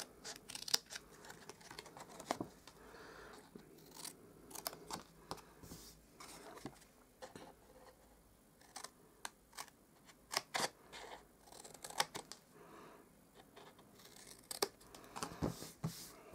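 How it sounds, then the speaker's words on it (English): Scissors snip paper along scored lines for a handmade Easter christening box, a series of quiet, irregular close-up cuts and rustles with brief pauses between strokes. "we're going to cut up just on these score lines"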